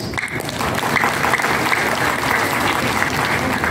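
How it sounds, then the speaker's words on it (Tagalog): Audience applause at a large indoor event, a steady dense clapping from a sizable crowd that continues without pause, fairly loud and close, with no talking over it. "let's give them a crowd of applause, please"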